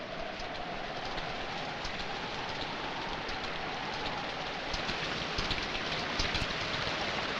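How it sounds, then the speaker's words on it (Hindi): Heavy rain pours down steadily in a dense, unbroken hiss that grows slightly stronger toward the end, with no voices over it. "लेकिन बरसात बढ़ती जा रही"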